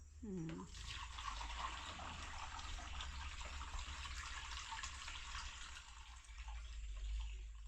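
Water pours steadily into a sprayer pump tank in a continuous, even rushing flow over a low background rumble.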